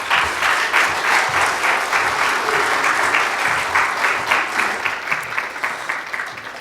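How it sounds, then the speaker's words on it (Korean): A Korean church congregation claps to welcome the pastor to the pulpit, a full, even round of applause from many hands that holds steady for several seconds and then begins to thin and taper toward the end. "우리 목사님 나오실 때 환영하는 마음으로 우리 같이 박수하겠습니다."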